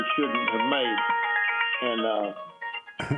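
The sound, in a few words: phone ringing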